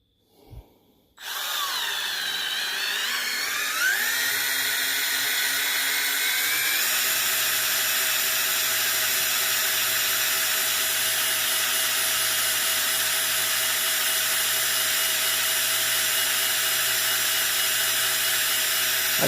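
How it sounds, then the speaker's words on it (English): A power drill set on low starts with a click, winds up, and keeps whirring at a steady low-speed pitch, close and continuous, with no talking. "I've got this drill turned down on low"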